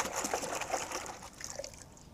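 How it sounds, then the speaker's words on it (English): Ricoh G600 camera rinsed in a bucket of water, a steady sloshing and trickling wash of water close by, fading slightly near the end, with no talk. "Rinse it off in the bucket of water."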